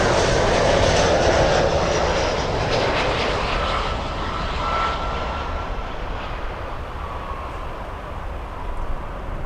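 Airliner jet engines roar steadily at Miami International Airport, a loud, continuous rumble that softens slightly as it goes on, with no talking.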